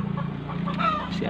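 A young free-range village hen clucks a few times close by, short throaty calls over a steady low background hum.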